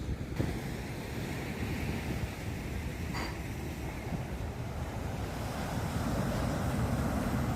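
Sea waves wash onto Pozhikkara beach in a steady, fairly faint surf roar. Wind buffets the microphone and a light click sounds early on.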